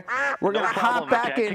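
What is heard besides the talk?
duck quacking sound effect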